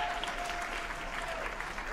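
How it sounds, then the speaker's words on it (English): Audience at a Writers Week session applauds steadily, a dense, even wash of clapping from many hands that holds throughout without a break. "You all need to, right now, applaud yourselves and thank yourselves."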